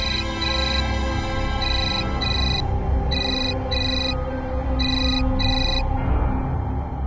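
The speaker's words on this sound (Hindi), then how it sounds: "लगता है मेरा फोन आया" A phone ringtone plays in repeating bursts of bright electronic tones over a steady background hum.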